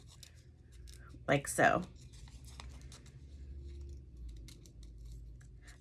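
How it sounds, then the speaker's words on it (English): Two quick crisp snips of scissors cutting paper, close up, followed by soft rustling; a voice speaks briefly at the end. "put your scissors in and then cut this out"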